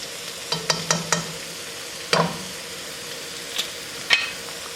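Chopped garlic being stirred in a frying pan while cooking chicken mac and cheese: several sharp scrapes and knocks of a utensil against the pan over a soft, steady sizzle, close by and with no talking.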